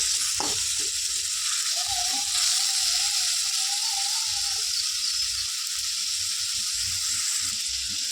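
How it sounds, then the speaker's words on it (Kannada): Tomato and onion frying in a pan, a steady close sizzle running throughout with a faint wavering whistle-like tone in the middle and soft clinks of stirring. "ಟೊಮೆಟೊ ಸಾಫ್ಟಾಗಿ ಈರುಳ್ಳಿ ಕಲರ್ ಚೇಂಜ್ ಆಗೋವರೆಗೂ ಚೆನ್ನಾಗಿ ಫ್ರೈ ಮಾಡ್ಕೊಳ್ಳೋಣ"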